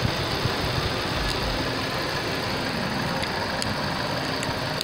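A car engine idles roughly with excessive shaking, a constant close droning rumble and vibration with no talking.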